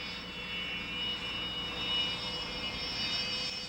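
A steady jet engine roar from a Gripen fighter jet passing by, loud and continuous with a high whining tone over it.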